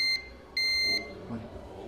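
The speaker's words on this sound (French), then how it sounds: "l'alarme a été envoyée" Two sharp electronic beeps, high and piercing, from a fall-detection floor alarm in a care home, sound one after another with a short gap, over quiet room noise.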